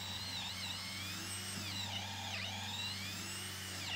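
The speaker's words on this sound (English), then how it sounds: "drilling my first hole for the carriage bolt" A power drill whines steadily and close up, its pitch rising and dipping as it bores a carriage-bolt hole while building a deck, with no pauses.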